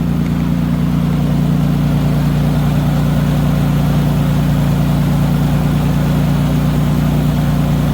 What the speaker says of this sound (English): You get a little shake from my misfire, but nothing too crazy. The AC is currently on right now to load up the motor a tiny bit